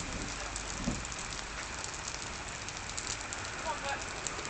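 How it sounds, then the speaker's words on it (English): Heavy rain falling in Ocean City, New Jersey, a steady hissing downpour with faint patters, quiet and continuous as if caught by a camera, with no speech. "It's raining so hard I can actually pick it up on this camera."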